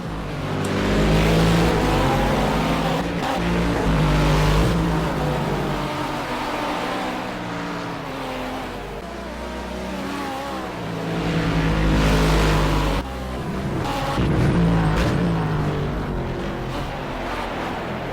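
Race cars roar off the start in a racing video game, including a McLaren, engines surging and fading in repeated waves as the pack sweeps through the first corners, loud and continuous.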